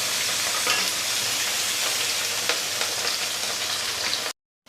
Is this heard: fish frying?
yes